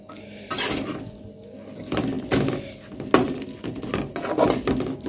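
Bitter gourd fry being stirred in a pan, with a spoon scraping and clanking against the metal in an irregular run of knocks over a soft sizzle, close and fairly loud.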